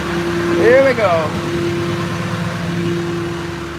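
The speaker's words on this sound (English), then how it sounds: "I am sitting on top of my engine." Boat engine running, heard from directly on top of it: a steady close mechanical hum with a brief whine-like rising tone early on, continuous and loud throughout.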